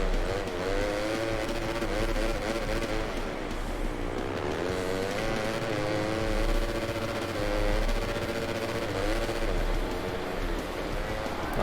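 Engine of a motorcycle in a motocross racing video game drones and revs continuously throughout, loud and steady with rising and falling pitch as the bike speeds along.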